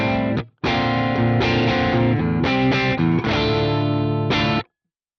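Electric guitar played through the default preset of the Archetype Plini X amp plugin, distorted with effects, sustained chords and notes ringing loud and alone, with a brief gap near the start and a clean stop at the end.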